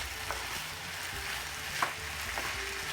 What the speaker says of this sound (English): It's just stir frying, dead easy to do.